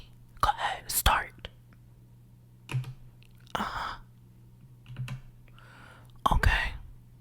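Bursts of typing on a computer keyboard, short clusters of close clicks and taps separated by pauses, alongside whispered speech in a quiet room.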